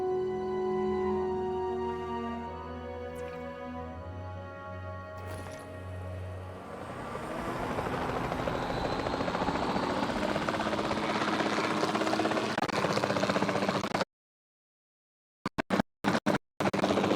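Helicopter flying in Jurassic World Evolution 2, a steady rotor and engine drone swelling louder midway and holding, following a brief musical passage, before cutting abruptly into near silence with short bursts at the end.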